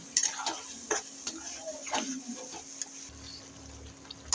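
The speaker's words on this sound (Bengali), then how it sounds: "এইবার আমি এটাকে সুন্দর করে এখন কষাবো" Spice paste of ground chili and turmeric being sautéed in a pan, quiet sizzling with several distinct scrapes and stirring knocks in the first three seconds, then a softer steady hiss.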